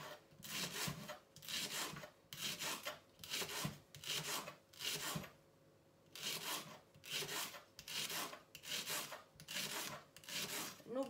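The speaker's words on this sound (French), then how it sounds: "Il faut découper le poireau et puis le laver." Knife slicing through a leek on a cutting board in a home kitchen, making a regular series of close, rasping cut strokes, each about a second long, with one brief pause midway.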